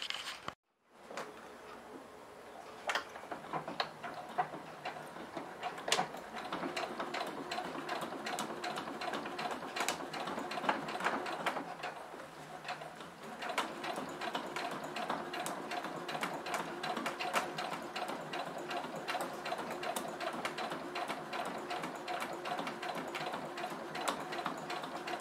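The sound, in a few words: sewing machine topstitching straight stitch on fabric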